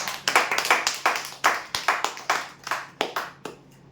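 Crowd applause for a prize draw winner at a weekly customer lucky draw, a burst of quick, irregular hand claps from a small group, fairly close and steady before thinning out and fading at the end, with no talking.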